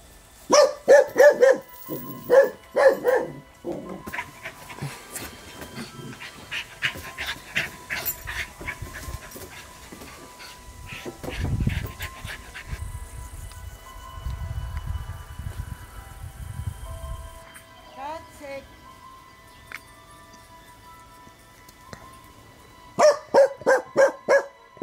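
A dog barks in several loud, rapid bursts at the start and again at the end, separated by a quieter stretch of panting, shuffling and low rumbling, all fairly close.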